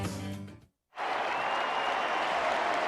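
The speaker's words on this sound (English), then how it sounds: "why are they cheering here at Bobby Bowden Field, Doak Campbell Stadium?" After a short cut from another sound, a big football crowd at Doak Campbell Stadium, Bobby Bowden Field, breaks into steady applause and cheering, a dense, even roar heard from afar for the clip's final two seconds.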